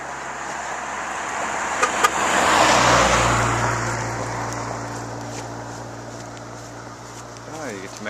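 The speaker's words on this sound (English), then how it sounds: "Watch out for cars." Cars pass along a road near a Civil War battlefield trail in Vicksburg, Mississippi, one swelling in a loud, close whoosh and fading away, with brief horn-like tones and steady traffic noise around it.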